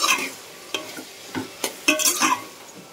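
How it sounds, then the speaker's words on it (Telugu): Tomato pieces stirred into an Andhra broad bean curry cooking in a pan, with several distinct spoon scrapes and clatters over a soft sizzle, close and fairly loud, no voices. "టమాటా ముక్కలు వేసుకున్నాక ఇంకోసారి ఇలా మళ్ళీ కలుపుకొని"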